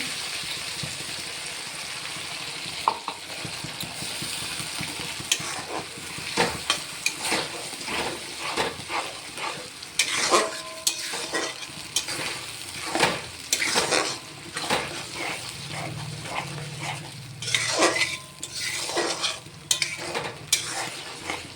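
Onion, ginger and garlic paste frying in a pan for a red chicken curry, with a steady sizzle broken by repeated scraping and clattering strokes of a spoon against the metal, close and fairly loud throughout.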